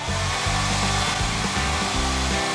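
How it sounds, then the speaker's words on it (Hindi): A hair dryer runs loud and close at a pet hotel grooming session, a steady whirring blow whose pitch shifts up and down in short steps as it is moved or switched, with no voices. "बाल सुखाने वाली मशीन।"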